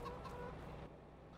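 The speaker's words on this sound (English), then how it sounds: "So there's 40 chickens in there, and everywhere, even under the combine." Chickens in the Farming Simulator 22 video game, a flock of about forty clucking softly in a brief, faint burst of fowl calls.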